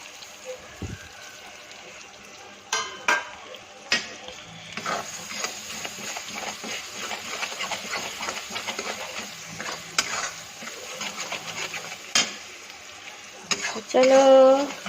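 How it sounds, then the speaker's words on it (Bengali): Two eggs sizzle in a hot kadai while a utensil scrapes and stirs them, giving steady frying crackle with occasional louder metal scrapes and clinks near the end. "তো এবার ডিম দুটো দিয়ে দিচ্ছি।"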